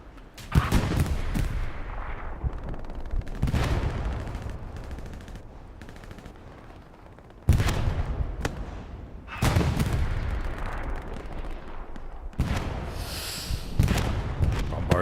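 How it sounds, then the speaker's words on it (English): Heavy artillery strike in Hell Let Loose, during a competitive Battle of Kursk match: repeated loud booming impacts and gunfire crashing at irregular intervals, some close and sharp, others rumbling further off, with a little speech faintly underneath. "looks like it's the artillery strike"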